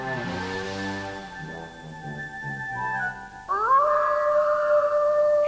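A cartoon dog howls in an animated adventure series, the drawn-out, wavering cry rising and holding loud and close after a stretch of shorter whining tones.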